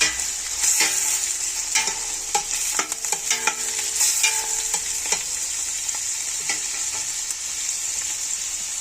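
Carrots and green beans stirred in a hot frying pan, a continuous bright sizzle broken by frequent sharp clicks and scrapes of the utensil against the pan, up close and unaccompanied by speech.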